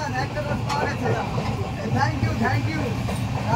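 Humsafar Express train running through Ranaghat station on the Sealdah division, a steady loud rumble of rolling wheels and carriages with people talking throughout over the rail noise.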